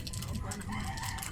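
A rooster crows briefly during a noisy indoor gathering, its call rising over background chatter and clatter at moderate distance.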